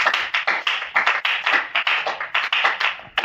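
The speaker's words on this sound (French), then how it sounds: "Acclamons pour la gloire du Seigneur." A church congregation applauding together, dense rhythmic clapping in quick regular bursts, loud and close, with no voices over it.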